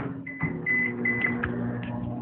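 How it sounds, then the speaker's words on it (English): Quiet electronic beeps, a few short tones in a row, picked up faintly by a nearby microphone over a low room hum. "You guys heard all that beeping."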